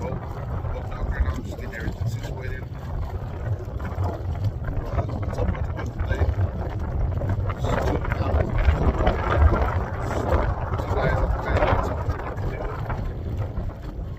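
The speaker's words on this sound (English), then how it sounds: "So on the water, there's a bit of a wind, a bit of a breeze." Wind gusting over open water on a small trailered boat on a Colorado lake, a steady low rumble and buffeting across the whole stretch with a person talking over it.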